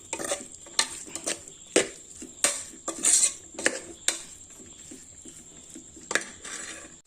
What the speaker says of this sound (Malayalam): ബാക്കി സവാളയും കൂടി ഇതിനകത്തിട്ട് ചെറുതായിട്ടൊന്ന് വാട്ടിയെടുക്കാം.